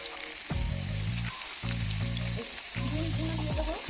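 Chopped carrot, beans, cauliflower and capsicum sizzle in hot oil, a steady loud frying hiss with bursts of crackle and stirring scrapes throughout.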